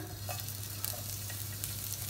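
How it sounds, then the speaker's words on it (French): Steady soft sizzle of crushed garlic frying in hot olive oil, close and continuous, with a faint occasional stir. "l'huile est bien chaude et on va mettre notre ail écrasé"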